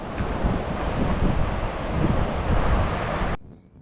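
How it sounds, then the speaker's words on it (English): Steady, loud coastal wind on the Welsh coast near Whitesands buffets the microphone in a continuous roar, then abruptly drops away near the end. "It's pretty windy down here today"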